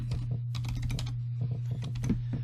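Rapid keystrokes on a computer keyboard in bursts of clicks, close and fairly loud, with short pauses between runs over a steady low hum.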